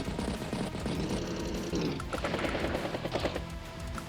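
In the game Advance Wars, a battlecopter attacks a medium tank. Dense rattling machine-gun fire and explosive bursts play loudly over a whirring rotor drone, continuous game sound effects without pauses.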